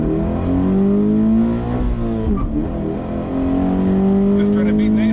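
A car engine revs steadily under hard acceleration from a standstill, its pitch climbing then dropping briefly at a gear change before rising again, loud and close inside the cabin.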